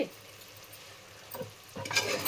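Drumstick and eggplant curry stirred in a pan, a soft scraping and faint bubbling sizzle that grows louder near the end, with a few light clinks.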